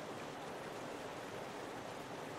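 Rushing river water flows in a steady, dense broadband wash, continuous and even throughout with no voices.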